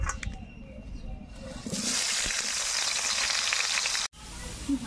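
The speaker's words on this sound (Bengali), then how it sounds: "এবার কলাগুলোকে ভেজে নেব" Green banana pieces fry in hot oil in a home kitchen while cooking Bengali shukto, a steady loud sizzle rising after a quieter start and holding until a brief cutoff near the end.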